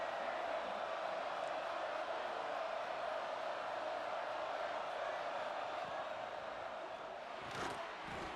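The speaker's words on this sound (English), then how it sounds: "Guns up, and so is the noise. The crowd electric, trying to help tack on this 3rd down." A large college football stadium crowd at a Texas Tech Red Raiders versus BYU game roars and cheers on third down in a steady, dense wash of noise that holds from start to finish.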